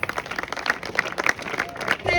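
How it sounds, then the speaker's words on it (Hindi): Audience applause at a school alumni meet welcoming teachers, steady fairly faint clapping from a crowd heard under a speaker's voice. "इनके स्वागत में तालियां कम नहीं होनी चाहिए"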